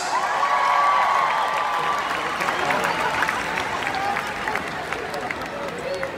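Applause and cheering rise from an arena concert crowd, with high whoops early on and steady clapping carrying through to the end.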